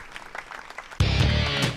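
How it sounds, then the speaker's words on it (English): Ballpark crowd at a college baseball game bursts into applause as the pitcher walks off the mound, a sudden, loud swell of clapping and cheering after a second of quieter broadcast sound. "a well-deserved round of applause as he leaves the mound"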